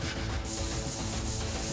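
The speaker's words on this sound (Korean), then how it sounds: "사포로 좀 밀고 가고 수세미로 딱 먼지 털어내야 되니까" Sandpaper is rubbed back and forth across a clay (hwangto) bed board, giving a close, dry scraping that rises and falls in a few repeated strokes with no talking.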